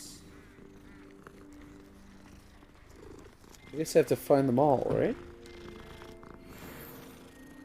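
Cats purr in Hogwarts Legacy as they are petted, a short, close burst of rumbling purr in the middle while someone talks quietly.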